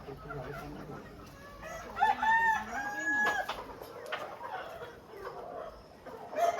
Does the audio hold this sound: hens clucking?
yes